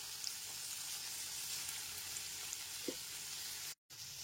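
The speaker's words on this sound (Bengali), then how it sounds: "হলুদ গুঁড়োটা দিয়েও খুব ভালো করে মিশিয়ে নিলাম।" Chopped vegetables are stirred with turmeric powder in a hot pan for a spicy semolina dish, making a soft, steady sizzle with faint scraping and a brief silent gap near the end.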